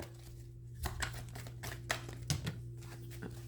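Tarot cards shuffled by hand, several soft, brisk riffling bursts spaced irregularly over a quiet room hum, close but faint, with no talk.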